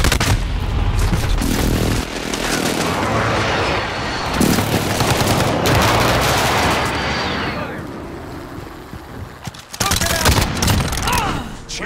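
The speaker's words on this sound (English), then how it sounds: "Friendly precision airstrike inbound." Heavy sustained gunfire mixed with booming blasts from a precision airstrike in Call of Duty: Modern Warfare, loud and dense throughout, with a brief lull near the end before the shooting and explosions pick up again.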